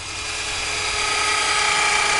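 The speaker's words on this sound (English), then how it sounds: "We're going to pre-drill a hole, put a screw in." A power drill pre-drills a hole through pallet wood while a compost bin is built, giving a steady, loud, continuous whine close by that holds through the whole moment.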